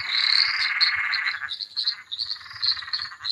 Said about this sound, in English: Do you like the noise the frogs are making?